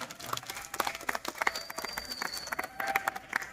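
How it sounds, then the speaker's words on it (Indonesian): Audience applause for a guest at a public lecture, scattered claps in a hall with a crowd murmuring beneath, moderately loud and uneven. "Tepuk tangan untuk Pak Roy."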